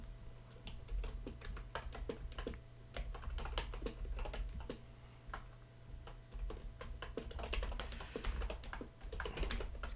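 Rapid, uneven keystrokes on a computer keyboard clatter steadily for about ten seconds over a low background hum, close and alone with no voices.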